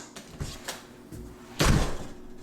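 A newly installed exterior door pushed shut with a solid thud, preceded by a few lighter knocks and handling sounds, close and moderately loud.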